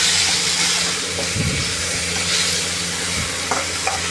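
Ginger garlic paste sautés in a pan for a chicken gravy, giving a loud, continuous sizzling hiss up close, with a few soft stirring knocks and scrapes underneath.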